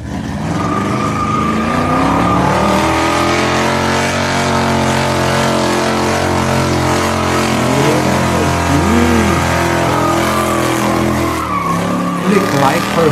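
Old-school muscle car with a big engine on the hood doing a burnout, a loud sustained engine roar with tire squeal and shifting whine, mixed with music and voices throughout.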